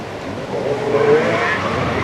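A 1988 Ford Sierra Cosworth rally car races into a hairpin at the Race of Champions, its engine note rising as it approaches, mixed with a brief tire squeal and loud crowd noise in the background.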